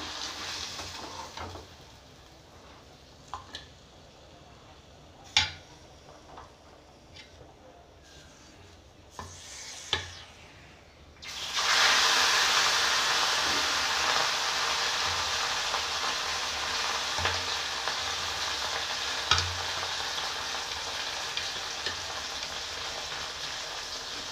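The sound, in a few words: fish frying in hot oil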